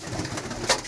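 Domestic male pigeons at a bird sale give soft, throaty coos, a short low murmuring burst close by with no talk over it.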